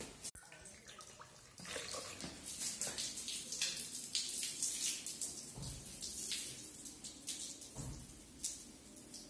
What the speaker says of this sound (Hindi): छोटी नली वाली बोतल खाली न होकर लंबी नली वाली बोतल सबसे पहले खाली हुई